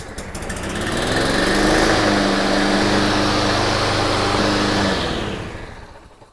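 Small lawn mower engine that had sat unused in long storage, firing up and running loud and steady close by for several seconds before winding down at the end.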